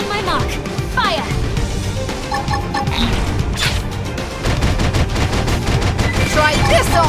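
Rapid gunfire and clattering impacts fill a battle in Xenoblade Chronicles X, dense and loud throughout, mixed with shouted combat voices and music.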